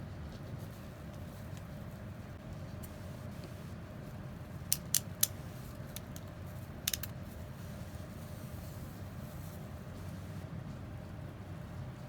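Scissors snip through deco mesh ribbon, cutting it into short pieces for a Valentine wreath: a few quick, faint clicks in a small cluster and one more a moment later, over a steady low room hum.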